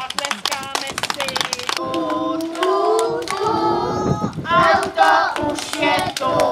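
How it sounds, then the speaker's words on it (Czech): Preschool children at a kindergarten farewell celebration clap their hands in quick, uneven bursts, with singing and voices heard around the clapping. "Výborně, zatleskáme si."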